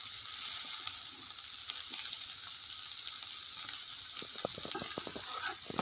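Maggi chowmein noodles fry in a pan while being stirred, giving a steady bright sizzle with soft scraping strokes and rustles that grow busier toward the end, no voices.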